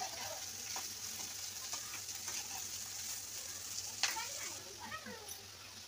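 Thinly sliced onions frying in hot oil for a Hyderabad-style mushroom biryani, a steady broadband sizzle with occasional stirring clicks and scrapes, close and moderately loud, with a low hum underneath.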